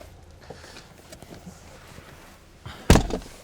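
A single solid thunk of a Ford Bronco Sport's driver door shutting near the end, preceded by faint shuffling and movement.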